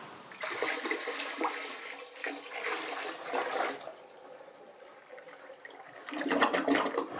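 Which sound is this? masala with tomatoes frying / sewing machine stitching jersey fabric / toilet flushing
toilet flushing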